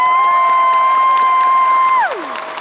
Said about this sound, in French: faites du bruit pour Lilou Chris